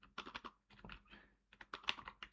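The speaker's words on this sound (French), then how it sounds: "Donc, on fait /-v pour spécifier l'IP. On tape l'IP." Quiet computer keyboard typing in uneven bursts of quick clicks, with short pauses between runs, close and alone, as an IP address is entered for a Hack The Box exercise.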